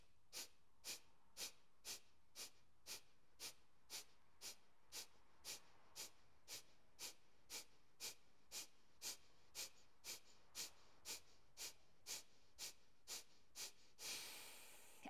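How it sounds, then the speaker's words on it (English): Rapid, forceful Kapalabhati breath pumps during a yoga flow, about thirty sharp, evenly spaced nasal exhalations in a steady rhythm, close and alone, ending in a longer release of breath. "breathing in for 30 pumps of Kapalabhati breath"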